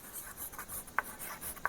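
A pen writes on paper during a math lesson, with soft scratchy strokes in quick short bursts and two sharper taps, close and quiet, with no talking.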